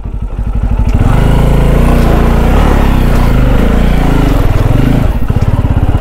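A motorcycle engine labours up an old road near Jammu, close and very loud, with a steady throbbing drone that pulses more at the start and end, and no talking.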